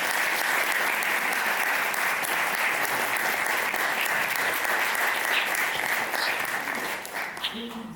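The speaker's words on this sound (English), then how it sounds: "Please give them a round of applause." An audience at a community event gives panelists a long round of steady, full applause that holds strong for several seconds before thinning out near the end.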